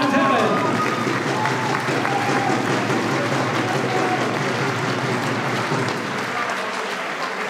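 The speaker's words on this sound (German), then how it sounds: "Applaus, meine Damen und Herren." Sustained, dense applause from the crowd fills the hall at a professional boxing event in Stein, steady and loud throughout, with a voice faintly underneath.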